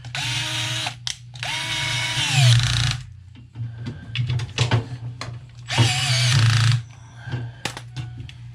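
A power drill drives screws back into a Kenmore Elite washer during repair, with three loud sustained whirring bursts that wind up and down, separated by clicks and handling noises, alone without talk.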